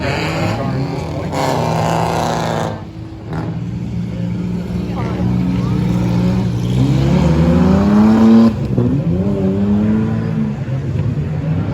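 Race cars in an enduro race roar and rev through a turn, one running on a flat tire, with engine pitch rising and falling under continuous commentary.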